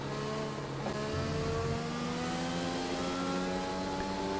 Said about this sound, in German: Da kommen sogar direkt 2. Ein Alfa Romeo und ein Renault.